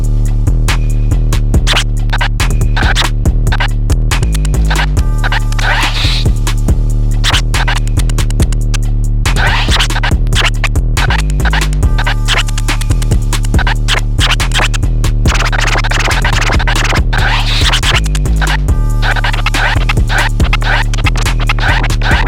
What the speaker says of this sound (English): So I've loaded scratch sample over here.